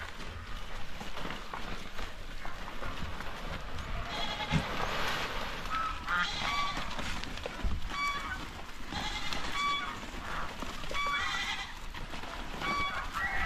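Several goats bleat repeatedly at a moderate distance, overlapping calls scattered across a noisy outdoor background.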